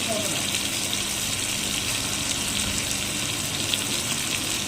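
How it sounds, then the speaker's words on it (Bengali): Taro greens frying with spices in a pan, a steady broadband sizzle and hiss running unbroken throughout, close and fairly loud. "এই যে মশলাটা কষা হয়ে গেছে এবার কচু শাকগুলো দিয়ে দিলাম"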